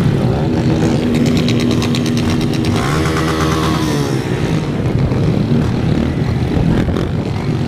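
A loud, continuous roar of many motorcycle engines revving together at a wheelie event in Jaguaré, Brazil, overlapping whines rising and falling in a dense crowd of bikes.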